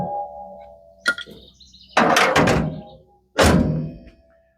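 Hood of a 1949 Willys pickup truck lowered and latched after a hinge adjustment: a light metallic click, then two firm, close thunks a second or so apart as the hood sets down and catches, with no talking.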